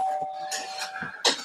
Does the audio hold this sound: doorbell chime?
yes